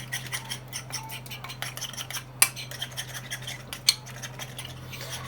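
Schnitzel ingredients being mixed in a bowl with a utensil, light clinks and scrapes of metal against dish in an irregular rhythm, with a couple of sharper taps, close and fairly quiet over a low steady hum.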